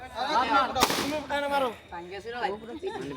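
A single sharp balloon pop in a prize game, one loud burst standing out amid lively chatter and voices before and after it.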